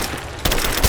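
Gunfire in Rise of the Tomb Raider, a sudden loud burst at the midpoint continuing as dense, rapid shots with a heavy low thump near the end, set against constant combat din.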